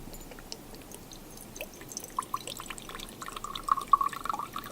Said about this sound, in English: So we pour the vinegar